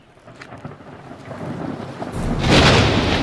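A thunderstorm rumbles and swells into a loud, heavy thunderclap over a steady hiss of rain and wind.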